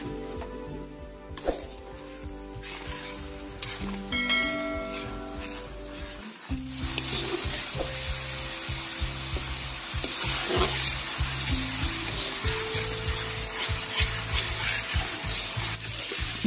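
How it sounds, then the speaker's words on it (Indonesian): Candlenut coconut milk cooks down into oil in a pan with a steady sizzle and bubbling that grows denser and louder partway through. Spoon scrapes and stirring run along under it, and tonal background sounds fade in the opening seconds. "Diaduk terus ya teman-teman agar santan dari kemiri ini tidak menggumpal."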